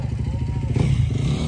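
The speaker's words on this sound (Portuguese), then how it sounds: "Primeira vez que vamos acelerar nossa motinha na pista" A Honda CRF 250 motorcycle engine idles and revs close by on a track, its loud, rapid throbbing pulse rising briefly in the middle and staying steady to the end.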